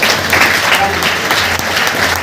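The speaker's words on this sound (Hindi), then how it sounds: "एक बार जोरदार ताली होनी चाहिए इसके लिए" A seminar audience on direct selling gives a loud, sustained burst of applause, dense clapping running steadily throughout with no pauses.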